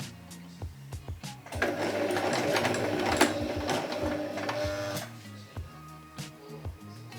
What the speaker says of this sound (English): So we finally found my sewing machine.